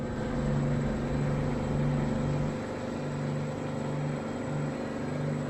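A truck engine from American Truck Simulator rumbles at a steady idle with a low droning hum, alone and even in level throughout.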